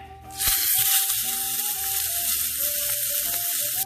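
Thick-cut sous vide pork chops sear in a hot pan, a loud, continuous sizzle that swells right after they go in and holds steady up close.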